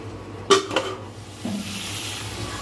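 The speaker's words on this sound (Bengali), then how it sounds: "হালকা আঁচে ভেজে নিচ্ছি, একটু মাঝে মাঝে জল দিয়ে ঢাকা দিয়ে দিয়ে মশলা কষিয়ে নিচ্ছি" Spices frying over low heat in a pan, with a sharp metal clank of a spoon against the pan near the start and a second knock, then a soft sizzle and scraping stir running underneath.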